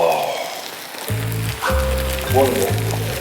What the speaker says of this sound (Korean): 돼지 기름에 밥 볶는 거잖아.